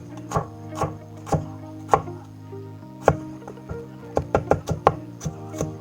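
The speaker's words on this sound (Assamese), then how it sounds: "পিঁয়াজটো মিহি মিহিকৈ কাটি আছোঁ।" A knife finely chopping an onion on a board makes a dozen or so crisp, close thuds in an uneven rhythm that quickens into a rapid cluster near the end.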